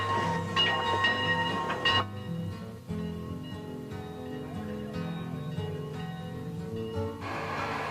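A Mt. Rainier Scenic Railroad steam train runs steadily with a loud, continuous mechanical rumble and tonal hiss, swelling at the start and end, no voices present.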